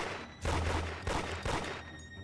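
Gunfire in the Roblox horror game Midnight Cleaners: three bursts of rapid shots crack out in quick succession, loud and close, with no talking between them.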